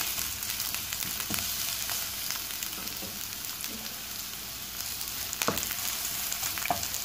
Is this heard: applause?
no